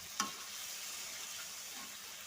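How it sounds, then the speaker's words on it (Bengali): Green chili and cumin paste sautés in a pan for a prawn curry, giving a faint, steady sizzling hiss after one small clink at the start. "তো ভালো করে কষানো হচ্ছে।"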